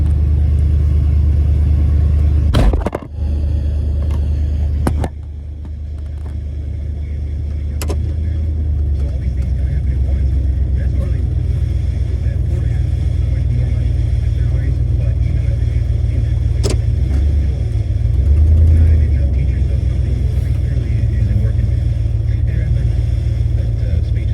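A heavy truck engine rumbles steadily at close range for the whole stretch, with a few sharp knocks early on and a voice talking over it.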